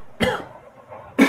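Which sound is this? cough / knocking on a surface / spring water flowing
cough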